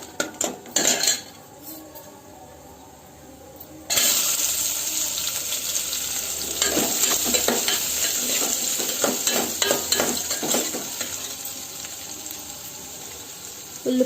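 Onions and cashews fry in a pan for curry leaf rice: a steady sizzle swells up after a quiet start, with spoon scrapes and metallic clinks against the pan throughout.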